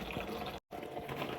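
Water poured steadily into a one-liter measuring jug resting on a flat surface, a close, continuous splashing fill broken by a brief silent gap before the pouring resumes.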